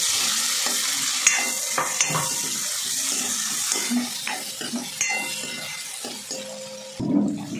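Finely chopped onion sautéing in a pan for a ridge gourd curry, a steady soft sizzle with repeated scraping and stirring strokes of a utensil against the pan, close and continuous with no speech.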